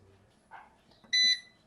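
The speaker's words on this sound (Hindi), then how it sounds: "अलार्म इसका जो चल रहा है ना, ये आपको आवाज़ आ रही होगी" A Sorotec solar inverter gives a short, loud electronic alarm beep near the end, clear and high-pitched, after a few quiet handling noises.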